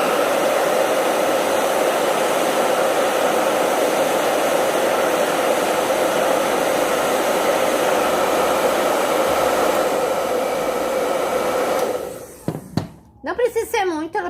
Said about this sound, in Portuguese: use um secador de cabelo para esquentar essa camada aqui.